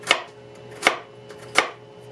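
A knife chops baby carrots on a cutting board, three crisp evenly spaced thuds against a quiet background, close and with no voices.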